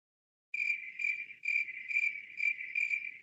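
A cricket chirping loud and close, starting abruptly after a moment of silence and then going on in rapid, regular bursts of shrill trilling.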